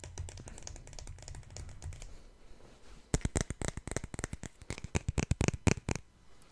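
Naruto trading cards handled fresh from booster packs, soft papery rustle at first, then a run of crisp close taps and flicks as the cards are shuffled and laid down, quiet and intimate with no speech.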